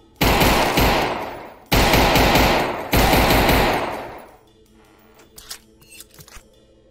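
Three heavy bursts of rapid automatic gunfire ring out in Half-Life Alyx, each a loud close rattle that fades into a tail, followed by quieter scattered clicks and clatter.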